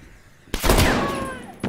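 A sharp burst of gunfire in Call of Duty: Black Ops Cold War: a loud close-range shot with a trailing echo, then a second crack about a second later.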